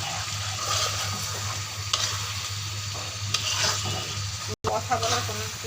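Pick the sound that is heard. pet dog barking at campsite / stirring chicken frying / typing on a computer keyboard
stirring chicken frying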